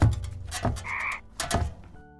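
Frog croaks sound in a few rough, throaty bursts with a brief higher warble between them, close and moderately loud with no talking.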